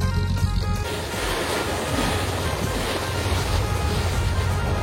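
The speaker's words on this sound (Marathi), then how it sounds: "आपली आता बोट घरी चालली आहे" A fishing boat from Satpati near Mumbai heads home from the deep sea, with a loud, steady wash of waves and wind noise running through the whole stretch and no voices.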